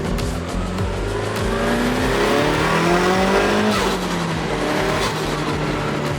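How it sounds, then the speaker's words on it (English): Race car engine revving hard through a rev match while driving, with rising and falling harmonic sweeps, loud and continuous, plus brief tire squeal. "Give it a rev match."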